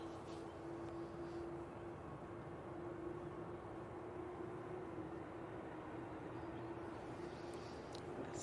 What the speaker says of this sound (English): A320 in from Madrid.